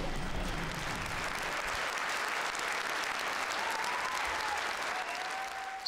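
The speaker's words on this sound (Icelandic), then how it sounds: "Sýningunni lýkur undir dynjandi lófataki." A theatre audience gives thunderous applause at the end of a Mary Poppins stage performance, a dense, sustained roar of clapping that stays loud throughout.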